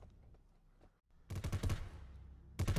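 Video game assault rifle gunfire, two close, loud bursts of rapid automatic shots with a short pause between, preceded by faint low mechanical clicks.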